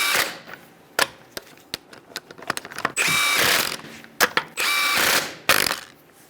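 Ratchet with a 21mm socket snugging the wheel lug nuts on a 2010-2013 Kia Soul, close and loud, with irregular clicking bursts between sharp knocks and several longer sustained runs of ratcheting.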